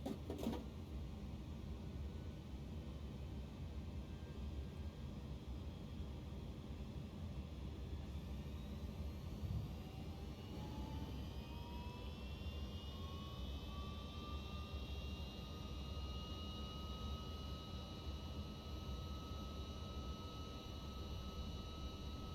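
FedEx MD-11F jet engines spooling up in X-Plane 12 at Memphis, a steady low engine roar with whining tones that rise and climb in pitch over many seconds, then hold high and even.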